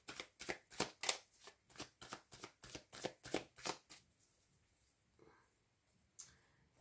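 Oracle cards being shuffled by hand, a quick run of about a dozen crisp riffling bursts close up, then a few soft scattered taps as the deck settles.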